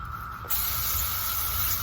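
A hose nozzle bursts into a steady, hissing spray of water onto a rose plant after a brief quieter moment, continuing evenly and close by.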